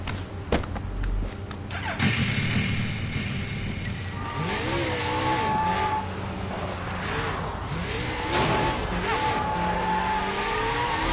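Motorcycle riding in the video game Sleeping Dogs: a continuous engine drone with pitch rising and falling as the bike speeds along, mixed with thuds, scrapes and busy game sounds.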